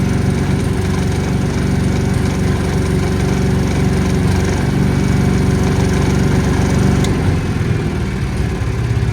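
A Denyo engine welder runs steadily at raised engine speed, set toward 60 Hz for welding, giving a loud, continuous buzzing engine drone up close with no pauses or talking.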